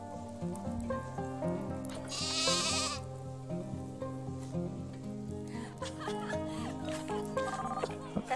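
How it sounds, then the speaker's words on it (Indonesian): Sheep bleating in the Planet Zoo game's snowy Arctic enclosure, wavering calls rising over steady game music and ambient tones throughout. "coba kita dengerin. Jadi domba ini hidupnya di salju dan makannya rumput."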